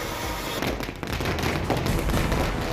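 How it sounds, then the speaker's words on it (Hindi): Dense crackling fireworks set off by a crowd celebrating the passing of a bill in Jodhpur, India, a continuous loud barrage of pops and bursts with no clear gaps. "जमकर की आतिशबाजी।"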